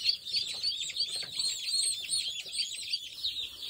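A crowd of baby chicks on a farm, a brooder of 260 chicks, chirping continuously in dense high-pitched overlapping peeps, close and lively, with no talk.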